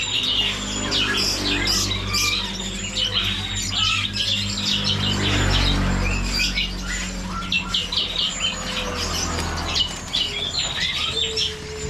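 Caged birds at a roadside bird shop in East Java chirp, tweet and squawk in a busy overlapping chorus, with occasional wing flutters over a steady low hum of traffic, and no talking.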